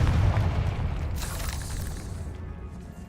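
A Confringo blast spell explodes in Hogwarts Legacy inside a decayed catacomb, giving a deep, loud booming rumble that slowly fades over about three seconds, with no talking.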